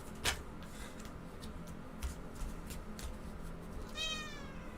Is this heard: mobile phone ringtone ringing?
no